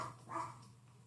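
One faint, distant dog bark sounds briefly against a quiet background.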